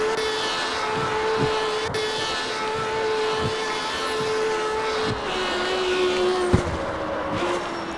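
A Lamborghini Huracan EVO racing engine in the video game CarX Street drones steadily, its pitch climbing and then dropping sharply at each gear shift, with a loud continuous whine.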